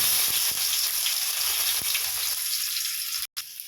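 Garlic and ginger sizzle steadily in a hot pan, a dense, close frying hiss with light crackles and stirring clinks, broken by a brief silent gap near the end.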